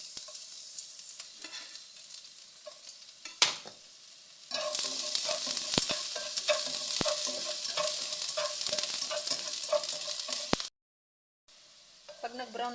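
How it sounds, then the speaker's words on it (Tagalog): Garlic frying in oil in a pan already used for frying eggplant, a steady bright sizzle that swells loudly partway through, with occasional utensil clinks, then a brief break before quieter sizzling resumes. "Lagay ako ng mantika dito sa pinagprituhan natin. Sunod ko ang bawang."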